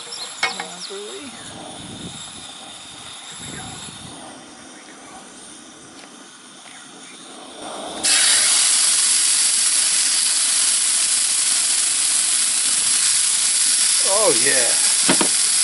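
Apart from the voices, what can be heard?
steak sizzling while cooking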